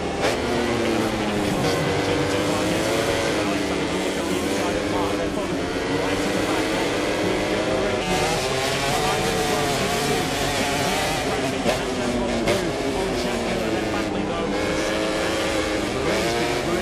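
MotoGP racing motorcycles at the Mugello Italian Grand Prix, engines wailing continuously at high revs with shifting pitch as bikes pass, loud and steady under race commentary.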